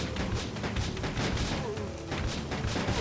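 Continuous rapid gunfire from a lightgun in Resident Evil: Gun Survivor 2, a dense crackling barrage of overlapping shots with no clear break.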